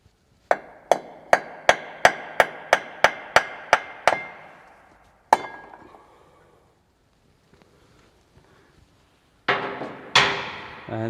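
Hammer blows ring out during maintenance on a KamAZ truck, about ten sharp, evenly spaced metallic strikes in quick rhythm, then a lone hit and a pause before two heavier clanks close it out.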